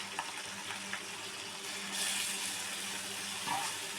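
Chicken pieces going into a hot pan for a Telangana-style tamarind-leaf gravy curry, giving a steady broadband sizzle with light stirring scrapes, fairly close and continuous, swelling briefly as the meat hits the oil.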